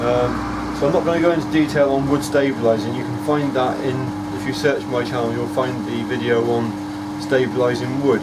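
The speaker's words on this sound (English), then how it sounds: "the noise you can hear is my vacuum pump running." A vacuum pump runs for wood stabilising next to a vacuum chamber in a knife-making workshop, a steady mechanical hum and drone running throughout beneath someone talking.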